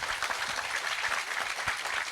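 An audience at a film festival panel discussion claps together, a dense, steady patter of many hands heard at a moderate distance for a couple of seconds.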